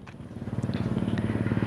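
Kawasaki Ninja RR two-stroke motorcycle running with an open exhaust, no baffle or silencer, giving a steady, rapid, crackling pulsing idle close by, with a faint voice briefly underneath.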